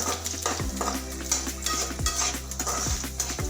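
Crushed coriander seeds and chopped onion sautéed in a pan, with a continuous sizzle and a spatula scraping and stirring in a loose repeating rhythm, close and fairly loud, no voices.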